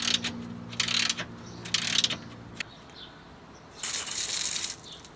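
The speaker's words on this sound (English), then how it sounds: "I'm just going to remove these bolts." A ratchet wrench clicking as bolts come off a Mazda Miata engine bay, in several close bursts of rapid ratcheting separated by pauses, with a faint hum early on and no talk.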